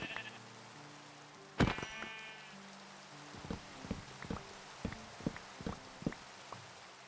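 Sheep in a Minecraft world bleat once loudly up close, then a quick run of short, evenly spaced game bleats follows over soft rain-like background noise, with no talking.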